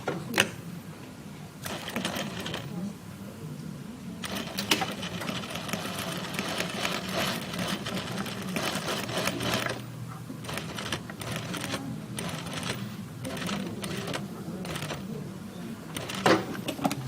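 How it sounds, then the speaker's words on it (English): A sewing machine back stitching along a collar, running in a steady mechanical whir with short pauses and faint clicks between bursts, close up and moderately quiet, with no talking. "so same thing, I'll back stitch."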